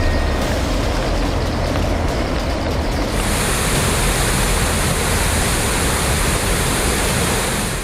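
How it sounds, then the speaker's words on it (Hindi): The Rispana river in Dehradun rushes in full spate, fast floodwater producing a loud, continuous roaring hiss of churning water, steady and close throughout. "देहरादून में रिस्पाना नदी पूरे उफान पर बह रही है। तेज बहाव के चलते नदी का जलस्तर तेजी से बढ़ गया है"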